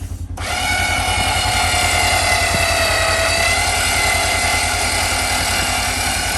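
A Warn winch runs under wireless control, starting abruptly and holding a loud, steady whining motor drone with a fast mechanical pulse, close by.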